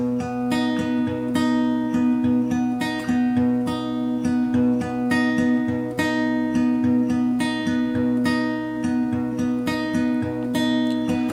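Steady fingerpicked acoustic guitar playing the repeating plucked pattern of a song over sustained chords, clear and close with no voices.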